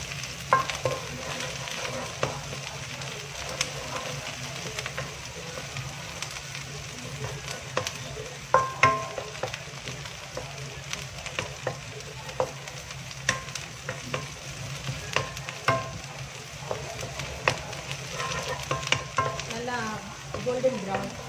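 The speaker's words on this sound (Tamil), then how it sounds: "காஞ்ச மிளகாய், இது எல்லாத்தையும் போட்டு நல்லா கிண்டி விட்டுக்காங்க." Dried red chillies and other seasonings fry in oil while a spoon stirs them in a pan for okra, giving a constant sizzle dotted with frequent clinks and scrapes, close by with no talking.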